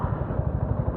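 A Suzuki Gixxer SF 250 motorcycle engine under way, a close, steady low throbbing pulse with a rapid regular beat throughout one short second.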